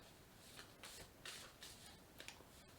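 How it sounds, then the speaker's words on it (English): Oracle card deck being shuffled by hand, quiet close riffles and soft swishes in several short bursts, with a faint sharp snap near the end. "Let me shuffle here."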